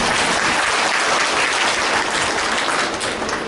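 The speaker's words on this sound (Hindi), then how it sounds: "जोर से ताली बजाओ इसके लिए" An audience at a Brahma Kumaris memorial gathering in Ratlam claps loudly and densely, a steady wash of applause filling the whole stretch without a pause.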